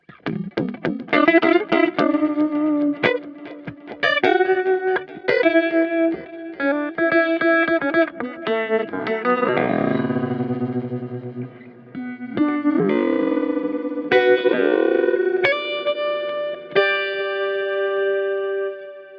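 Electric guitar through a Meris Enzo synth pedal with envelope follower, notes sweeping and swelling with a filtered, warbling tone, played alone with echoing sustain and no voices.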